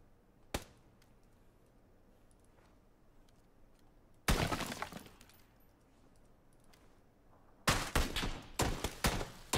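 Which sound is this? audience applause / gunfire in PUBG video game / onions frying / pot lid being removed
gunfire in PUBG video game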